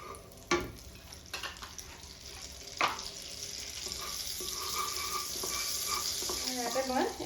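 Chopped cashews and onions fry in refined oil and butter with a soft, continuous sizzle. Scattered clinks and stirring scrapes of a utensil against the pan grow slightly louder toward the end.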